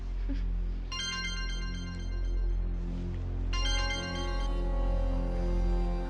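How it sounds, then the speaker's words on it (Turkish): A mobile phone ringtone plays in two melodic bursts of repeated tones over a steady low background hum, fairly clear and close, with no talking. "istersen telefona bak belki önemli bir şeydir."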